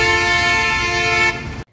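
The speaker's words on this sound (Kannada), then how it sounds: "ಇದ್ರ ಹಾರ್ನು ಎಷ್ಟು ಲೌಡ್ ಇದೆ ಅಂತಂದರೆ ಸುತ್ತಮುತ್ತ ಇರೋ ಜನನೆಲ್ಲ ತಿರುಗಿ ನೋಡಂಗೆ ಮಾಡತ್ತೆ" The horn of a vintage car gives one loud, sustained honk lasting over a second, close and strident, then cuts off abruptly.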